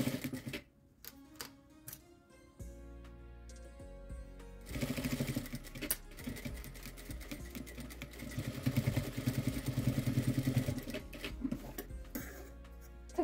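A sewing machine stitches fabric at close range, starting quietly and then running in a steady, rapid mechanical whir with rhythmic needle clatter after the first few seconds.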